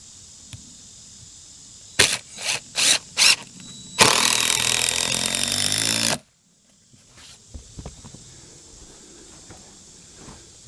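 A power tool drives decking screws into cabin floor joists: several short bursts, then a sustained two-second whir that stops abruptly, followed by faint shop noise.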